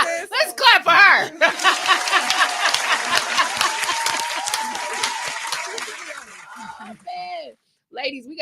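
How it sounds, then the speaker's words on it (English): Podcast hosts clap for a guest in a burst of dense applause lasting several seconds, with voices and light laughter over it before and after. "Let's clap for her."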